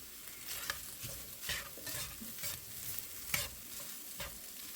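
Food sizzling and being stirred in a Modern Innovations 10-inch skillet, a soft steady fry broken by repeated scraping strokes at a moderate distance, with no talking.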